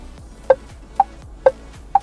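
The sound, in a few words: car alarm tone, 'nasional' setting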